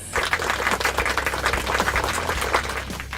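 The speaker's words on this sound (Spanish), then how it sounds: "Ahora quiero que recibamos con un fuerte aplauso a Alfred Wallace" Applause from a gathered audience welcoming a presenter, a short, dense burst of clapping at even loudness throughout, with no talk over it.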